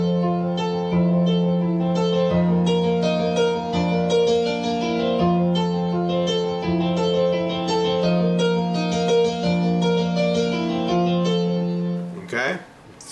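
The intro of a song is played at full speed on piano, with steady chords and melody notes ringing close and clear, ending in a brief burst of handling noise.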